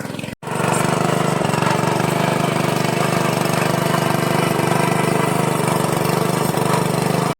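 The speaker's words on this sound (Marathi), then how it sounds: "आपल्या इथे ट्रॅक्टर आलेला आहे ट्रॅक्टर नांगरतो आहे" A tractor engine drones loud and steady as it ploughs a rice paddy in Ratnagiri, Konkan, a constant low rumble after a brief dropout at the start, close and uninterrupted with no talk.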